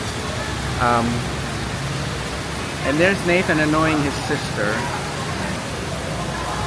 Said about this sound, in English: we would have to cross the street in this tropical torrential rain